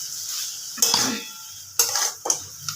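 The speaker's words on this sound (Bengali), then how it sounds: "এবারে ভালো করে এটাকে মিশিয়ে নেব" A thin fish curry with onion stirred in a metal pot, a few distinct scraping, clanking strokes of a spoon against the pan separated by quiet pauses, close and fairly loud.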